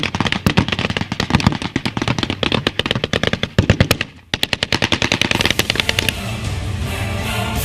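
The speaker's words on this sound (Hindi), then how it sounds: "यहाँ बंदूकें बोल रही हैं, तोप गरज रही हैं" Heavy gunfire from AK-47 rifles mixed with cannon fire rattles in rapid, loud automatic bursts. Dense volleys are broken by a short lull, then the sharp cracks resume before fading into a rumbling, noisy wash.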